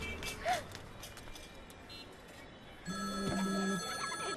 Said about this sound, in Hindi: फिर से फोन करा है